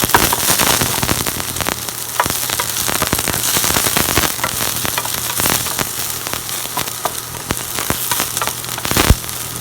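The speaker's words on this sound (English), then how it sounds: "Fry those onions up a little bit." Diced onions frying in olive oil in a pan, a loud, dense, steady crackle and sizzle with scattered sharper pops, no talking.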